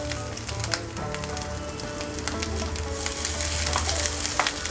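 Grated coconut fries in a pan with a steady, close crackling sizzle, broken by soft scraping stirs and small pops throughout.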